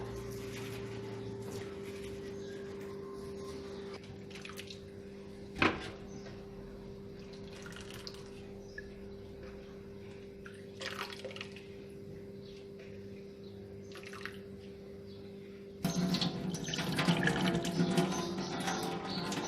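Water pours and splashes over dry pumpkin leaves at close range toward the end, following a long stretch of quiet, steady hum with a few faint knocks.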